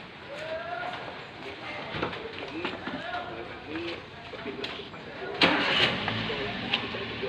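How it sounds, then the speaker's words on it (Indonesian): A Toyota Avanza engine is cranked and started during an exhaust emission test, turning over and running in a noisy workshop while people talk over it. "Untuk yang pertama, kita akan menghidupkan mesin."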